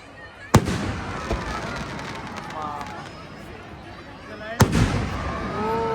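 Fireworks at a Vijayadashami Ravan Dahan celebration in Nainital: two sharp, loud bangs a few seconds apart, each followed by crackling, over a constant roar of a large outdoor crowd with voices.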